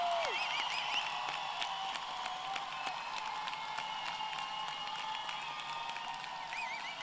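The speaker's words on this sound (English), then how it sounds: "let's give them all a big round of applause" Graduates and guests at a university fall commencement ceremony applaud the standing graduates. The clapping is steady and moderate and continues for several seconds, fairly distant in a large hall with sustained tonal sound above it.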